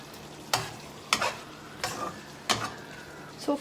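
Chili chicken stir-fried dry in a pan, a low sizzle punctuated by five sharp scraping strokes of a spatula at roughly even intervals, close and without talk.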